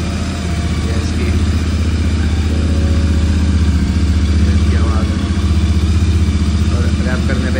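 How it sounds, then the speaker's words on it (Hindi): A Royal Enfield Interceptor 650 motorcycle's dual exhaust idles with a steady, throaty low rumble, close and loud, running continuously throughout. "एग्जॉस्ट दिए हैं इनकी आपको आवाज़ सुना देते हैं"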